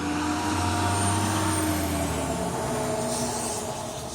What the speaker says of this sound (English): we still have traffic flowing